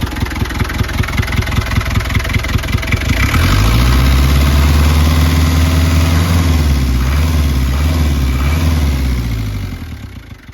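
A 1986 Land Rover 90 pickup's diesel engine idling loudly in neutral nearby, a steady low rhythmic chug that smooths out and revs slightly before settling and fading near the end.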